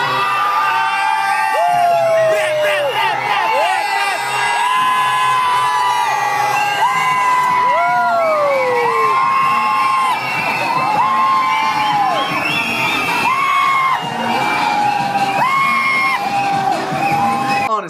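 Cinema audience at a showing of Vijay's Thuppakki cheering, whooping and yelling continuously, a dense, loud crowd with high shrill whoops and shouts rising and falling throughout.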